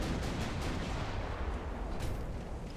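Naval guns firing high explosive shells in a warship battle, a dense, loud, continuous rumble of heavy gunfire and booms with no talk.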